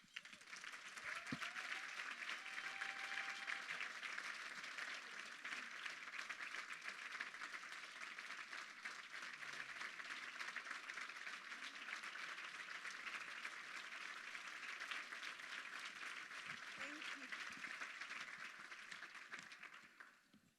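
An audience at a women's luncheon applauding as speaker Sandra Perron is welcomed, sustained dense clapping of a large crowd lasting about twenty seconds before stopping abruptly.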